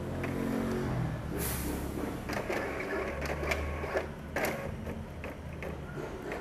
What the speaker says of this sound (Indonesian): printer ini sudah mengalami aus di karet lorornya ya, makanya dia menarik kertas seperti ini ya